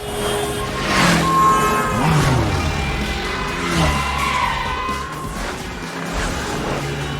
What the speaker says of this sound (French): on retrouve également toute une séquence de course-poursuite en voiture à travers Paris